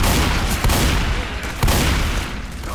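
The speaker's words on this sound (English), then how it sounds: "Quit freaking shooting me!" Gunfire in Left 4 Dead 2 forms a dense, continuous roar with a couple of heavier booming shots standing out, loud and close throughout.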